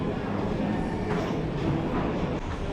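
Steady rumble and rolling rail noise of a train cruising between stations in Taipei, Taiwan, heard from inside the carriage as a continuous, fairly loud drone with faint clicks and no clear voices.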